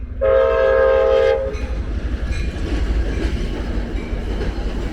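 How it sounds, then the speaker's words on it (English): An Amtrak passenger train passes at night: a loud horn blast opens, then the rumbling roll and clatter of the cars continue steadily nearby. "Amtrak train, commuter train, passenger train, whatever."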